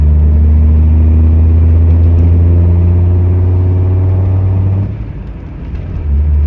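A Land Rover Defender drives with a loud, close engine drone that steadily climbs, then dips briefly as the clutch goes in for a smooth gear shift before the engine picks up again.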